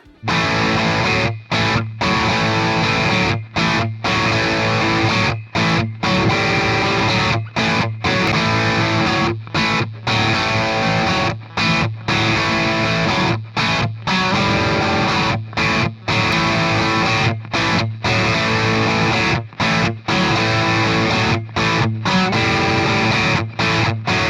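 A distorted electric guitar played through the bridge pickup, part of a comparison of body tonewoods, chugs loud, saturated chords in steady rhythmic bursts with brief regular gaps between phrases, alone without talk.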